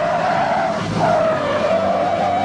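A 1971 Buick Riviera brakes hard to a halt during a road test, its tires letting out a loud, continuous squeal and skid that holds steady for several seconds, with no talking.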